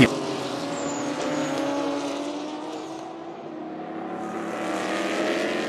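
Daytona prototype race cars passing at the 24 Hours of Daytona, a sustained engine roar with rising and falling pitch as the cars go by, continuous and fairly loud from start to finish.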